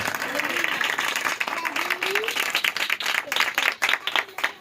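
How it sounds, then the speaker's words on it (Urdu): Loud, dense applause fills a church congregation, sustained rapid clapping from a crowd with a voice speaking over it. "ذرا زوردار تالیاں خداوند کی جناب میں"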